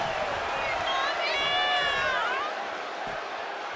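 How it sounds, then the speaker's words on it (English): An arena crowd in WWE 2K25 cheers during an NXT wrestling match, a loud continuous roar with rising whoops, and a voice can be heard over it. "Look at China taking in all the energy from the crowd"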